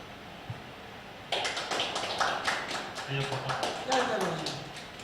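Audience clapping breaks out at a Tamil astrology event honoring an elder speaker, a dense burst of many hands that swells and holds steady, with a brief voice near the end.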